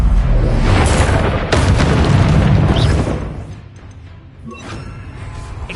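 A Bombarda spell explodes in the game Hogwarts Legacy with a loud, deep booming blast that rumbles for a few seconds, then fades into quieter crackling debris and lighter impacts.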